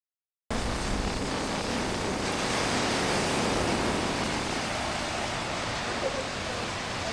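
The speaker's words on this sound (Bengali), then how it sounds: "জাস্ট সমুদ্রের গর্জনটা কিছুক্ষণ ধরে শুনতে থাকেন আপনারা" Sea waves roar onto the shore in a continuous, dense, broadband rush after a brief silent start, steady and loud with wind mixed in, with no talking.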